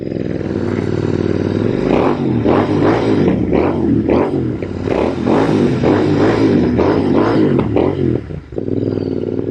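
Royal Enfield INT/GT hybrid custom motorcycle by Baxter Custom Works riding with its exhaust pipes rumbling and rising in repeated revs, a close, loud throaty engine note with wind noise over it.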